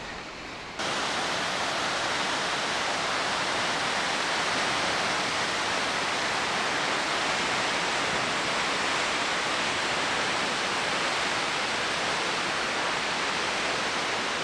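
A small waterfall in a mountain gorge in Kyrgyzstan rushes in a steady, loud, broadband roar that starts abruptly after a brief moment and continues unbroken throughout, close and dense with no voices.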